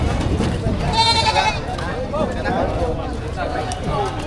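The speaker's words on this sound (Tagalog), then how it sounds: "Daming kambing nito." Goats bleat at a cattle, goat and carabao market in Padre Garcia, Batangas, with one clear wavering bleat near the start amid a dense crowd of people talking and general market bustle.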